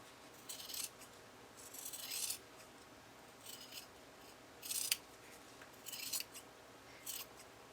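Scissors snipping around small plush fabric pieces, a series of short close crisp cutting bursts separated by quiet pauses, with no voices.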